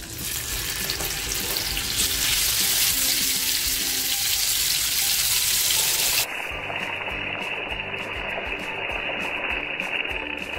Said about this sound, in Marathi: आता जे हे पॉपलेट घेतलंय मी ते मी हे फ्राय करून घेते